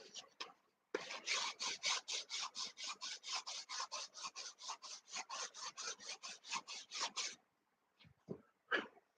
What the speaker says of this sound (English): smooth the bumps out with the sandpaper here